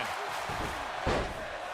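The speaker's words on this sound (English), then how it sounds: "Crowd is loving it." An arena crowd cheers during a wrestling match in the video game WWE 2K25: a steady wash of roaring crowd noise with a short swell and impact near the middle, and voices mixed in.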